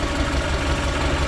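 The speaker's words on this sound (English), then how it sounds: "I think the exhaust is vibrating a little bit." A car engine idles close by with a steady, dense rumble, the exhaust buzzing and vibrating loosely throughout.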